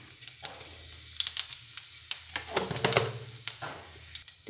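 Cumin seeds crackle in a little oil in a kadai, with faint scattered pops and sizzle and the clink and scrape of a spoon stirring, quiet and close.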